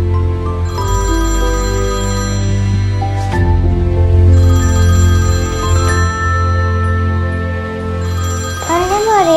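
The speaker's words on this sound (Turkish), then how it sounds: "telefon çalıyor." A telephone rings in a domestic scene from a drama series, its electronic ringtone warbling loudly and steadily through the whole stretch with no talking over it.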